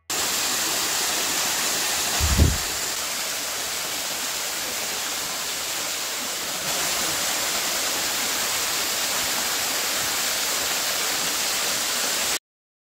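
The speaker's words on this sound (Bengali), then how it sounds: "এই দেখুন এই ঝর্ণাটা" A waterfall in Cherrapunji roars as a steady, dense wash of falling water, loud and close, with one brief low thump early on and no talking.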